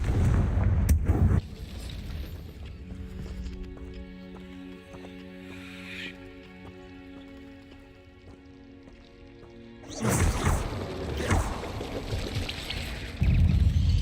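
Fire-spell explosions in the Hogwarts Legacy video game, a loud booming burst at the start, then a strained, swelling magical rumble, followed by another heavy blast and crackling roar near the end.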